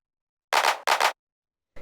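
A short electronic clap sample from a tech house production, struck twice in a quick doubled pattern with a third hit starting at the very end, dry and loud with nothing else playing.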